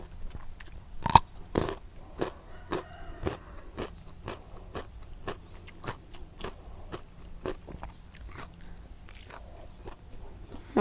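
A person chewing while eating rice, close and intimate, with a steady run of crisp, crunchy bites and mastication clicks over about ten seconds, nearly alone with no talk.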